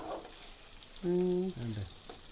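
Fish frying in a pan of oil, a steady close sizzle with a brief rising hiss partway through, heard alone without talk.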